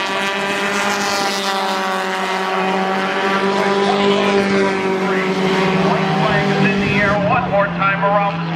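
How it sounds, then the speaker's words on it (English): Four-cylinder race cars drag race down the back straightaway at Spencer Speedway, their engines a sustained, loud whine that rises and falls as they pass, under a commentator's voice. "Now drag racing down the back straightaway."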